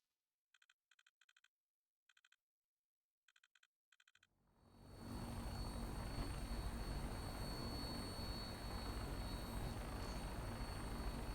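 An aircraft in the Fallout 4 video game starting up for takeoff: a few short electronic ticks, then a loud engine roar swells in after four seconds and holds steady with a high whine.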